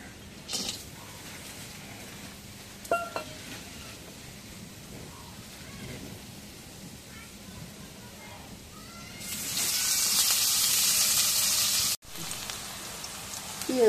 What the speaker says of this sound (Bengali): এখন কড়াইয়ের মধ্যে পেঁয়াজ দিই।